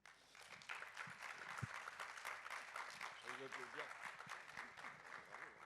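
A roundtable audience applauds its three panel speakers, a soft, steady patter of many hands clapping, heard at some distance and fairly quiet, with a voice faintly present.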